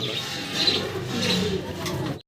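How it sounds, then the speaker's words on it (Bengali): A pair of Andrope pigeons cooing up close, soft low throaty coos repeating in a gentle rolling rhythm before cutting off abruptly. "খুব চমৎকার এক জোড়া অ্যান্ড্রপ কবুতর দেখতেছি"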